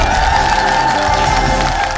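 A studio audience keeps up continuous cheering and applause through the short stretch, a steady wash of crowd noise with shouts and claps over a constant tone.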